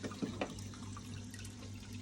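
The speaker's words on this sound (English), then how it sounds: "It was not enough, so I have to add more water." Water running and splashing as it is added to a fish tank, a steady near flow with a couple of brief louder splashes near the start, continuing throughout.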